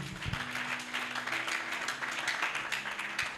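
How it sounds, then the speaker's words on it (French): A church congregation applauds in a steady, continuous patter of many hands clapping, moderately loud and sustained throughout with no voices standing out. "Acclamons pour la gloire de notre Dieu"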